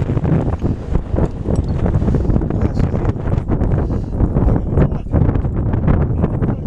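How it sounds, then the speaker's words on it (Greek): Steady, loud wind buffeting the microphone, a constant rough roar with gusty fluctuations throughout and no voices. "Όπου αέρας."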